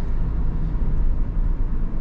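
Kia Carens engine pulling in 5th gear, a dense, steady low drone and road rumble heard from inside the cabin, continuous and fairly loud with no talk.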